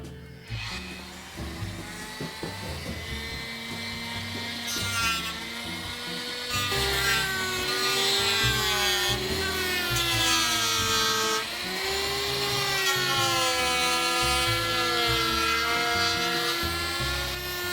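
A power tool cuts through a wastebasket being made into a tiki light, giving a loud, continuous whine whose pitch wavers and climbs for about eighteen seconds. No speech.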